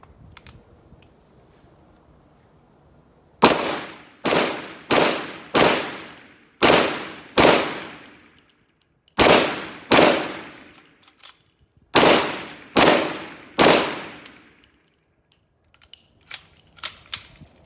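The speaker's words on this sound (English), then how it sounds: "gonna shoot some more 357s" A Winchester 1873 lever-action rifle fires .357 Magnum rounds at a target about ten yards away. Loud, sharp shots ring out in quick groups of three to five, each with a decaying tail, and lever clicks fall between the groups.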